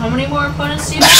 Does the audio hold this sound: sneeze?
yes